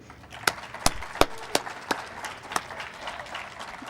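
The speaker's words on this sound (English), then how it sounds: "join me in a round of applause for everyone who stood beside you" Scattered applause at an in-person law school graduation ceremony for the class of 2020, a handful of distinct sharp claps spaced roughly evenly over a faint background, sparse rather than a full crowd roar.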